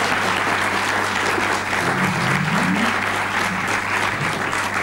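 Studio audience applause on an Italian music talk show, loud continuous clapping filling the room with a low hum beneath it and no voices.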